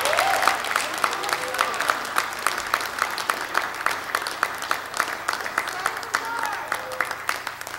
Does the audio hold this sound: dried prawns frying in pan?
no